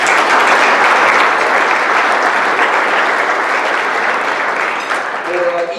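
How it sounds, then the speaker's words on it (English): A luncheon audience applauds radio guests in a steady, loud wash of clapping that holds evenly and begins to thin near the end. "Kevin Thomas from KLIN Radio, so let's give them a round of applause"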